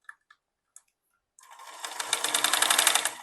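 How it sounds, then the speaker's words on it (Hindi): Sewing machine running up to speed and stitching a steady, rapid run along the edge of a baby's elastic frock, close and fairly loud after a few light clicks. "एक्स्ट्रा सिलाई चला के"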